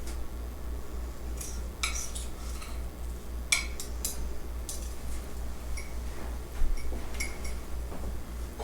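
Knife and fork working through a cooked, medium to medium-rare sirloin steak on a plate, giving light scattered clinks and scrapes of metal cutlery at close range against a low steady hum, with no talking.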